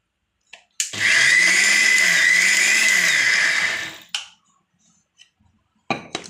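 A mixer grinder coarsely grinds coconut in one loud, close, high whirring burst of about three seconds that then winds down, followed by a few brief clicks and knocks.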